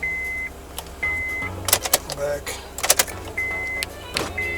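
Door lock actuators on a Honda Odyssey minivan thunk and clack in quick bursts as the lock button is pressed, with steady electronic beeps and a low motor hum around them, close-up, while someone speaks briefly.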